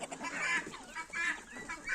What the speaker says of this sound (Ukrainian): Молоденький індик.